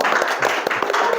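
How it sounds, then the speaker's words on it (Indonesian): Short burst of clapping from a small group in a classroom-style session, a quick run of close, sharp hand claps lasting about a second. "Tepuk tangan"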